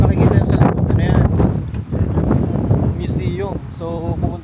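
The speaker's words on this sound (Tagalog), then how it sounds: "Malakas ng hangin dito." Strong wind outdoors at Owen Sound, Ontario buffets the microphone with a steady loud roar, while a person talks over it the whole time.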